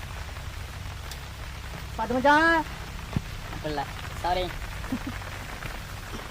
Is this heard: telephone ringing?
no